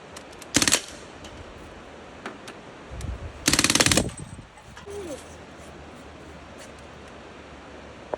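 Gunshots during target practice at pop cans outdoors: a sharp crack early on, then a quick cluster of shots a few seconds later, with a faint murmur and rustle in the quiet between.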